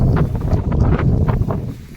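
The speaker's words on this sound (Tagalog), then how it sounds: "Hangin." Gusty wind buffets the microphone on an open farm lot with a low, rumbling roar and brief rustling bursts, loud and close throughout.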